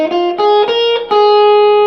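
Electric guitar playing a few quick notes of a blues-rock pentatonic scale in the D-shape position, clear sustained plucked tones with a slightly driven tone, close and loud.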